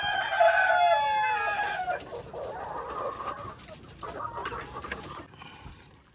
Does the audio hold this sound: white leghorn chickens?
yes